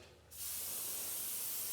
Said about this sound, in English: I want to spray that.